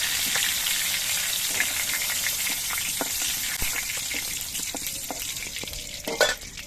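Pointed gourd (potol) frying in oil, a steady bright sizzle with scattered crackles and pops and a louder burst near the end, close and alone with no talking.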